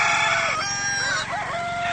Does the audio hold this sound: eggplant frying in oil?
no